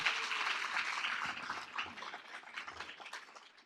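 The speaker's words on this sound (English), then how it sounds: "Please give them a round of applause for that." Applause from an audience honoring young scholars at a summer research institute capstone keynote, a moderate, steady patter of many hands that thins slightly toward the end.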